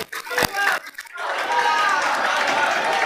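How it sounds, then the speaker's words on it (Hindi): Students clap together in a maths classroom, a dense burst of applause that fills the room and holds steady, following a moment of talk. "नहीं, खूब आराम से खूब ताली बजा लीजिए।"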